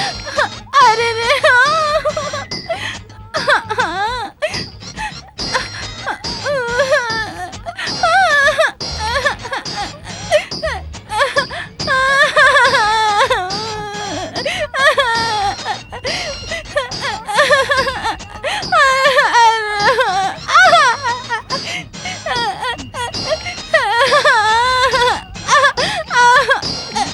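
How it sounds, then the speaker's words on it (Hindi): Crying and wailing voices from a Hindi film scene, with sobbing, gasps and moans continuing loudly and densely throughout, heard in place of the expected music indoors. "अंदर संगीत की बजाय रोने की आवाज आ रही है"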